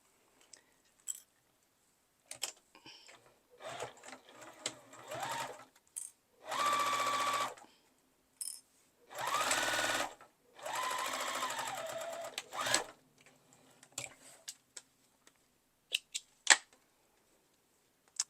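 A sewing machine stitches across the lining of a fabric coin purse in several steady whirring runs, separated by quiet pauses and small clicks of handling.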